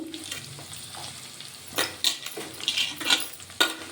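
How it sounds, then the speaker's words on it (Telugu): Onions and green chillies sizzle steadily in a hot pan while being cooked for stuffed brinjal curry, with scattered scraping stirs and occasional clinks of a spoon against the metal, close and fairly loud with no talking. "అలాగే ఆనియన్స్ కూడా వేసేసుకుందాము. ఆనియన్స్, పచ్చిమిర్చి,"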